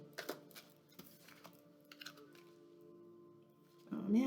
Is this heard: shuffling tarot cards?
yes